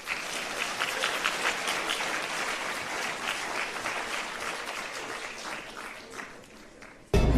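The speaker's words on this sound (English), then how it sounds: "Let us give him and them a round of applause." A dinner audience at a farewell event applauds a singer and his live band with steady, dense clapping that slowly tapers before a sudden loud sound cuts in at the very end.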